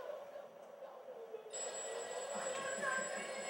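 A telephone bell starts ringing partway through, a bright, continuous trilling ring that stays loud to the end. Before it, there is only a quiet, muffled room tone.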